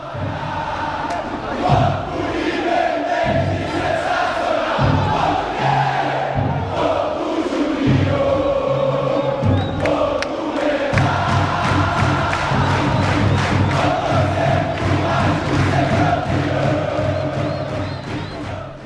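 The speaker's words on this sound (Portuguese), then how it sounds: "esse gol que a torcida vascaína grita até hoje, né? Canta até hoje nos jogos do Vasco" Vasco da Gama football supporters chant a song in unison, a loud, dense crowd of voices singing rhythmically with rising cheers, sustained throughout as a roaring stadium chorus.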